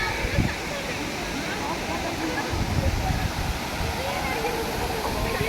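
A forest waterfall pours in a constant, loud roar of rushing water, broadband and unbroken, with faint voices in the background.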